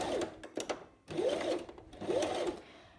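Sewing machine back-stitching along a garment sleeve seam. Three short, close whirring runs of stitching are separated by brief pauses.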